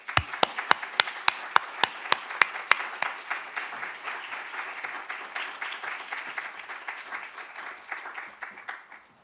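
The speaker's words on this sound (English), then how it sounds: "So let's give Dr. Yazzie a warm welcome and a warm round of applause." A small audience greets a speaker with applause: a few loud, sharp individual claps up front, then a softer, scattered patter of clapping that thins out and fades by the end.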